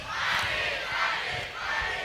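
Students gathered for a university orientation roar back a chant in unison, a loud, massed shout that rises, briefly dips, then surges again.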